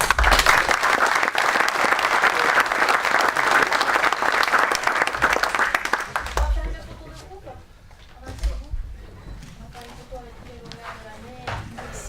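An audience at the Meilleur Apprenti de France 2015 automotive maintenance final in Rodez applauds the six award winners, sustained dense clapping that fades after about six seconds, leaving scattered claps and murmuring voices.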